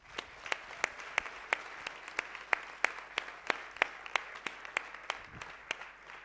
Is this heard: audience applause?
yes